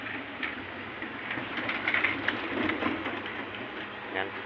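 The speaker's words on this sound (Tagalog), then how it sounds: "Baka kasi lumakas na naman yung ulan" Steady rain falls on an outdoor work site under overcast skies, a constant close hiss with faint scattered patter and no clear talk.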